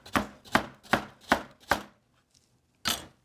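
Knife chopping carrots into thin slices on a cutting board: five quick, evenly spaced crisp chops, a short pause, then one more cut, close and clear with no talking.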